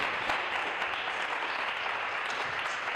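A church congregation claps and acclaims during a worship service, a dense, continuous roar of applause and cheering with no gaps.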